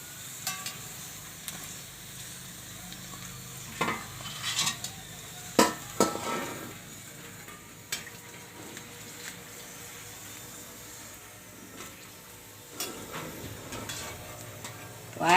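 Puris frying in hot oil, a low, soft sizzle with scattered crackles and a few louder clinks and taps of a utensil against the pan, no speech.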